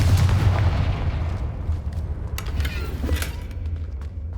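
A Confringo fire-blast spell goes off in the game Hogwarts Legacy, a heavy booming blast at the start that rumbles and fades, followed by scattered sharp cracks and clicks.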